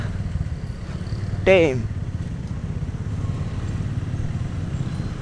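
Minerva R150 VX motorcycle from 2010, overdue for a service, idling steadily with a low chugging pulse close by, while a voice briefly speaks over it.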